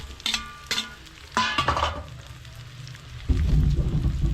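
Pork for humba tipped back into a hot pan: a few clattering knocks and scrapes of the meat going in, then a loud, dense sizzle of frying that takes over.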